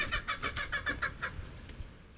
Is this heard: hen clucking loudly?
yes